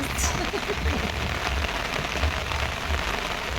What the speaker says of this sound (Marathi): काय पाऊस सुरू झाला